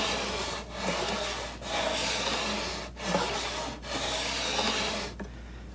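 A Stanley 95 hand plane cuts thin wispy wood shavings in repeated rasping strokes, about five close passes separated by brief pauses.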